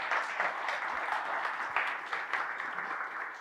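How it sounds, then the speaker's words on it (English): Steady applause from a conference audience at a Flutter community talk, dense and continuous clapping throughout with no voices standing out. "round of applause for everybody who's doing that"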